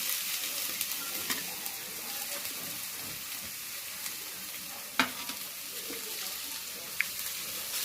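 Cumin, onion, chilli and tomato sizzle in hot oil in a kadhai, a steady close hiss broken by occasional scrapes and knocks of a stirring spoon.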